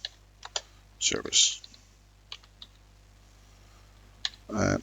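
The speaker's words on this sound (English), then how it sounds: "My typing is getting better." Scattered keyboard key clicks and a few quick bursts of typing, close and crisp, with long quiet gaps between them.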